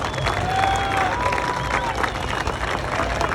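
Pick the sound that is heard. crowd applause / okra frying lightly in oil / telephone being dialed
crowd applause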